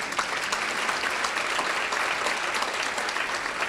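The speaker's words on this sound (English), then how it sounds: "Clap for her." Audience applause fills a hall at a State of Education event, steady and loud clapping sustained for several seconds without pause.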